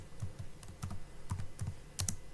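Keys on a computer keyboard clatter as C++ code is typed, a quick run of separate clicks and short bursts, near and fairly quiet with no talking.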